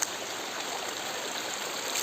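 Water rushing through Hadagarh Dam in Keonjhar, a steady, dense roar that holds at an even level for the whole stretch with no voices over it.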